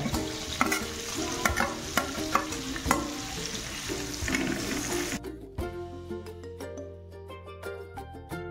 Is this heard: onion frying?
yes